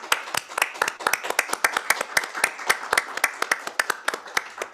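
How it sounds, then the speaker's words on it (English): A small group at a board meeting gives a round of applause, about two dozen distinct, fairly close handclaps in a loose steady rhythm over nearly five seconds, with no talking. "please join me in a personal as well as a virtual round of applause for Susan Willers"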